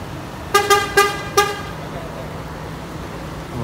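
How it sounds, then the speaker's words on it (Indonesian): Horn of a Sugeng Rahayu intercity bus honking four quick blasts in a rhythmic pattern, loud and close over a steady engine and road hum. "Klaksonnya masih ciri khasnya sumber ya."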